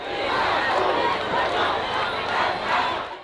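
Protest march crowd over a teenager's police killing, chanting "no justice, no peace" in a dense, rhythmic roar with repeated swells, loud and continuous throughout.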